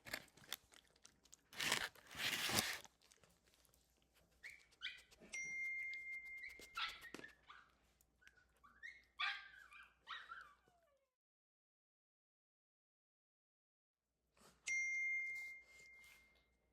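An excited dog waits for a treat with a crunchy clatter, then a burst of whimpers, yips and short whines. A pause of silence follows before a final whine.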